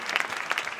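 Audience applause for an award winner at a business ceremony, a brief burst of dense clapping from a room full of people, steady and moderately loud.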